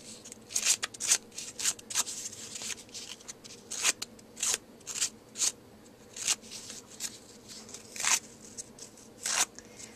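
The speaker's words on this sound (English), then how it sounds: "I take my edge distressor, just run it around, and rip up the edges a little bit" Edge distressor tool raked along the edges of a paper tree cutout, producing a series of short, crisp scraping rasps in irregular bursts, close and fairly loud with no talking.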